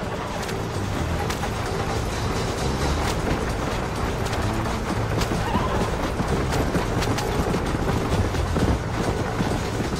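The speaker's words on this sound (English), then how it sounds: "Move them horses, damn it!" Horses neigh and hooves clatter as a team hauls a rattling wagon at speed in the Red Dead Redemption video game, a dense, continuous, loud mix of galloping, creaking wheels and whinnies with no talk.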